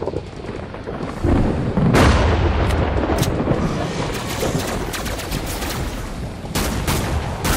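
M14 rifle fire in Killing Floor 2 during a solo Sharpshooter match on the Sanitarium map, with loud, close shots and booming impacts piled over a constant roar of combat noise.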